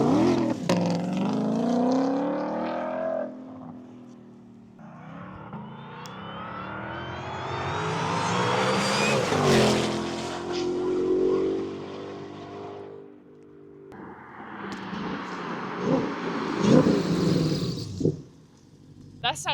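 A GTD Mustang with carbon fiber bodywork makes a loud drive-by, its engine note climbing to a sharp peak as it closes in, then fading and revving again with a high supercharger whine, while people talk nearby.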